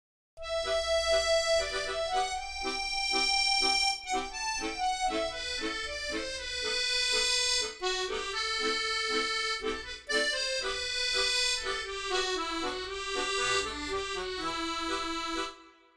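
Musette accordion from the EastWest Gypsy sample library plays a continuous run of sustained chords with a melodic top line, changing between major and minor, steady and close with no voices.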